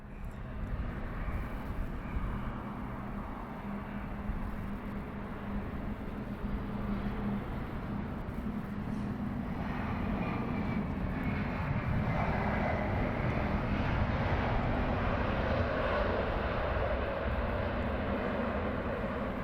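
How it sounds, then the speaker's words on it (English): An Airbus A380 departs from London Heathrow, a continuous distant jet roar that grows slightly louder and fuller as it climbs away, with light wind noise and no talk. "It's nice to get the A380 departure there."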